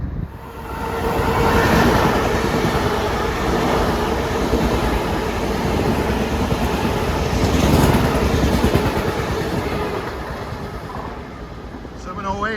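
A westbound LIRR train from Wantagh to Penn on track 2 rolls through Forest Hills in morning rush, a long continuous rumbling roar with two louder swells and a rasping metallic edge, fading slightly at the end.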